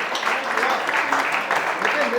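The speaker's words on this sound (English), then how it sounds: "Let us give a big applause." Applause from an audience at an office Diwali celebration, a steady dense wash of clapping filling the whole stretch, fairly loud and even, with voices mixed in.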